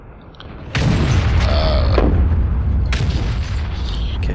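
The FV4005 Stage II tank gun in World of Tanks fires with a loud, close, deep boom followed by a long rumbling tail, then a second softer blast-like thump a moment later.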